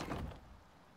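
A door being built in the survival game Icarus: a single soft, muffled thunk like a door setting into place, fading quickly into quiet.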